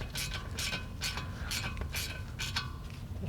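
Ratcheting clicks from a tool threading brake caliper guide pins on a 2012-2018 VW GLI MK6, a steady series of light, evenly spaced mechanical clicks close up.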